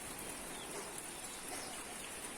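Rain falls steadily in rural Sisaket province, Thailand, a dense, even hiss that fills the whole moment without pauses, close by and moderately loud, with no voices.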